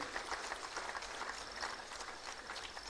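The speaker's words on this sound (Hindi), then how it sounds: "जोरदार तालियां होनी चाहिए आप सबकी तरफ से" An audience at a government ceremony where appointment letters are handed out and a ceremonial lamp is lit applauds with dense, steady clapping that fills the room evenly for several seconds.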